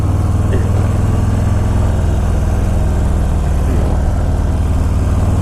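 A 2018 Harley-Davidson Breakout 114 motorcycle on a test ride, its big V-twin engine giving a steady, loud, low rumble that holds throughout with little change in pitch.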